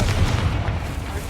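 A Confringo spell explosion in the video game Hogwarts Legacy hits as a short, heavy, low boom that rumbles steadily for about a second at close range.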